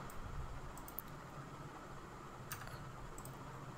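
Light typing on a computer keyboard, a few soft scattered key clicks over a quiet hiss, faint and close, no talk.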